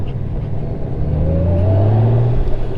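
A 2021 Honda Goldwing DCT motorcycle's engine rumbles steadily and then rises in pitch as it revs and accelerates, loud and close, with no talking.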